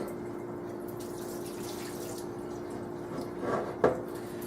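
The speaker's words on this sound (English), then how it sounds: "So I'm going to just rinse my rice, pour that water off." Water runs and drips in a sink as rice is rinsed and the cloudy water poured off, a steady close trickle that swells into a brief splash near the end, with no talk.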